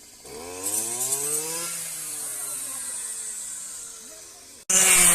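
A paddy harvesting machine cutting rice in a field drones steadily, its engine pitch rising and falling, before a loud, harsh roar bursts in close at the end.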